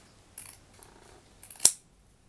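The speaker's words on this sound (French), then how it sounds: "on va commencer tout d'abord par découper une bandelette de coton" Scissors cutting a strip of cotton, a few soft snips followed by one sharp, crisp closing snip near the end, close and quiet in an otherwise still room without speech.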